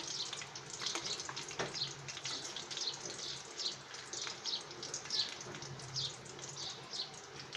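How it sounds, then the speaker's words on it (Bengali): Slices of raw banana frying gently in oil for chips, giving a soft, continuous crackling sizzle with small bubbling pops, faint and steady throughout. "একটু আস্তে আস্তে সুন্দর করে ভাজবো যাতে পুড়ে না যায়"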